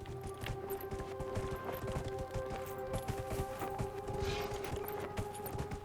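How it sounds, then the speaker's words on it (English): Hooves of a Qunari horse mount clop steadily in Dragon Age: Inquisition, a fast continuous galloping patter under a faint, droning game soundtrack. "okay, let me go ahead and use a Kunari horse."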